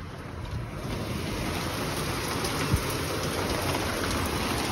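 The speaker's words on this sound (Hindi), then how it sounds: "it's pouring heavily in Mumbai" Heavy rain pours down in Mumbai, a steady broadband hiss of downpour close by and continuous throughout, with one brief soft knock partway through and no talking.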